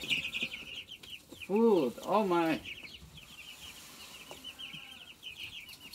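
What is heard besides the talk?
chickens clucking in video game Farming Simulator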